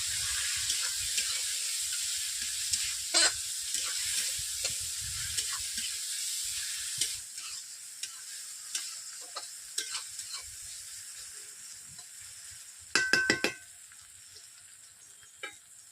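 Chopped onion and tomato frying together in a pan for an egg curry, a steady broadband sizzle with scattered clicks and scrapes of stirring and a brief louder clatter near the end, no voices.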